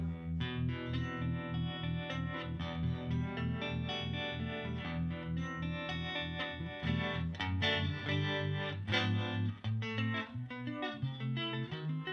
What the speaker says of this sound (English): it also has harmonic vibrato on board